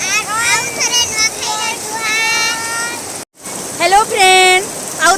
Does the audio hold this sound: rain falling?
yes